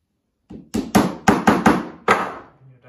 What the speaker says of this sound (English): tap in your dowel.